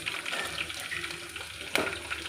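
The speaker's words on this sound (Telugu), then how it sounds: "ఇప్పుడు ఆనియన్స్ యాడ్ చేసుకుందాం" Onions sizzle and crackle in hot oil in a pan for mutton curry, a steady close frying hiss with light stirring scrapes and one sharper clatter near the end.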